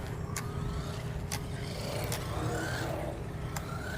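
HBX Hailstorm 1:18 off-road RC car running at its slowest speed setting, giving a steady, thin electric whir close by, with a few brief higher clicks over it and no talk.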